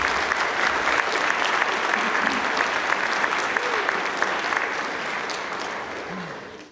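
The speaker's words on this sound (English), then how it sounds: "Let's give them a big round of applause." An audience at a youth awards event gives a round of applause, many hands clapping in a steady dense wash that holds strong for several seconds before fading off at the end, with faint murmurs underneath.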